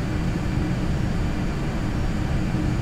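A Learjet's engines roar steadily in Microsoft Flight Simulator X on approach to a mesa-top airport, a constant dense whine and rumble with no breaks and no voices.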